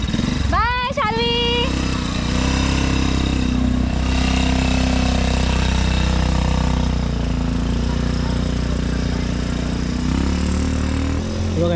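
A speedboat engine at Ganpatipule beach drones loudly and continuously at close range, a heavy low rumble with a rising whine near the start, while voices are heard over it.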